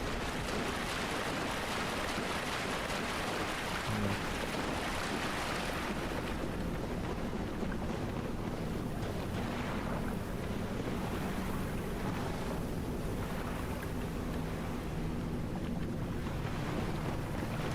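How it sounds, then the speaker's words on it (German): Waves wash onto a shore in the video game Dark Souls Remastered, a continuous broadband rush that swells and recedes softly, faint and steady throughout with no talking. "Das sind nur Welle, was ich dort höre, ne?"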